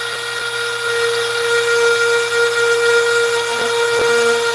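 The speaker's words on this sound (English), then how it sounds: "so this is like my first real project with the Dremel" A Dremel rotary tool undercutting a wood carving gives off a loud, steady high-pitched whine that holds throughout, with a couple of faint clicks near the end.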